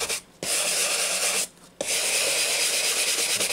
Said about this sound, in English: we are literally just going to scrub it